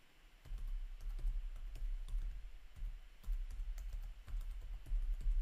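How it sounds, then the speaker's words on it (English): Keys clatter steadily on a computer keyboard as login credentials are typed in, a run of quick, close taps with brief pauses between bursts and no talking. "So I will start typing in my credentials for this."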